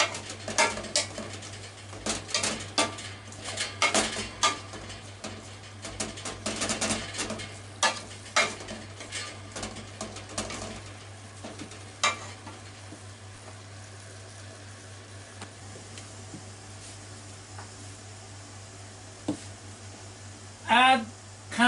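Shirataki noodles stirred and frying in a pan, with scraping and clattering strokes in the first half, then settling into a quieter, steady sizzle with occasional soft knocks of the utensil.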